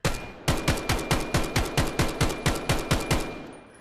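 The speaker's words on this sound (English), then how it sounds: "now let's try out the classic Scar." Rapid full-auto burst from a SCAR rifle in the VR shooter Vail VR, about fifteen sharp evenly spaced shots over three seconds, loud and close with no talking.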